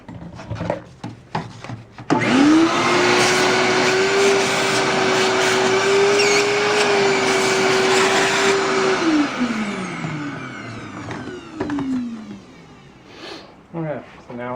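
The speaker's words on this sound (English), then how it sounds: "And vacuum that up quick." A vacuum cleaner sucks up drilling debris from a 9mm hole in a model railway baseboard where Peco points and flex track are fitted. It switches on with a loud, steady whine that holds for about seven seconds, then winds down.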